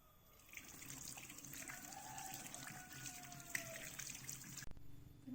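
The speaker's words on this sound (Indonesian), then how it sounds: "Saya izin untuk cuci tangan terlebih dahulu ya bu." Hands washed under a running tap at a sink in a nursing care setting, a steady close stream of splashing water for several seconds that ends abruptly as the tap shuts off, with no talking.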